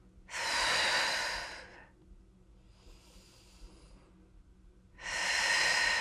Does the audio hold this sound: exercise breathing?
yes